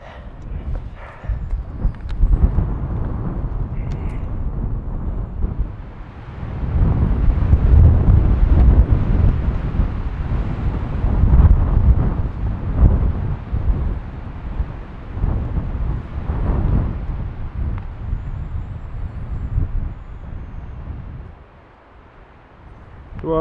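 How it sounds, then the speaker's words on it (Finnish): Heavy wind roars and buffets the microphone for a long stretch in the Vätsäri wilderness, Finland, rising and falling in strong gusts, then briefly drops away near the end. "Niin kova tuuli."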